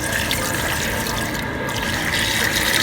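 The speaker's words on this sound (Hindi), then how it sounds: "इसमें हमने डालना है पानी हमने डालना है 3 से 4 गिलास हमने पानी के डालने हैं" Water pours steadily into a cooking pot for beef karahi, three to four glasses' worth, a continuous splashing rush heard up close with no talking.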